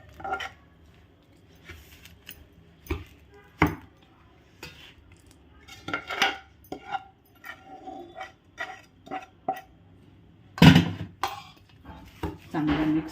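Ingredients for a nutritious laddu mixture are stirred by hand in a bowl with soft intermittent clinks and scrapes of utensils against the dish, and one sharper clatter stands out. A voice talks quietly in between.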